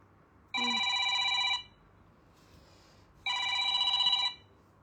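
A telephone rings twice in sustained electronic trills, each about a second long with a pause between, moderately loud over a quiet room during a live stream showing a clothing collection.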